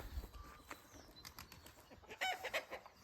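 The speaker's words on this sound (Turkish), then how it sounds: "Tavuklarımız çoğalmış" Farm chickens cluck and flap their wings in a quiet outdoor yard, with scattered short calls and a couple of louder bursts near the end, fairly faint overall.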